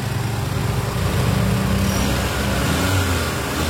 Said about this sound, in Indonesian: untuk bagian mesin seperti ini, mesin suaranya juga masih halus ya